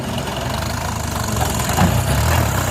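Turbo diesel tractor engine running at steady revs in a field, a loud, continuous rumbling drone throughout with no speech.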